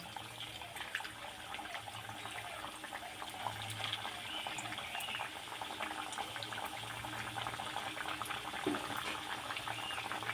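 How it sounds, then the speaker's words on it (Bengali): Small semolina sweets deep-fry in hot oil with a soft, even bubbling hiss throughout, faint and steady, heard up close with no speech. "এবার মিষ্টিগুলো তেলের মধ্যে ছাড়ব"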